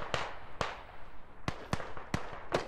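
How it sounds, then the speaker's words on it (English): Artillery shells landing in the video game Squad: six sharp, separate blasts spaced about half a second apart, crisp and fairly distant over a quiet low rumble. "Artillery's about to drop!"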